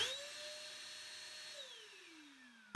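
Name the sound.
Hotpoint steam vacuum cleaner switching on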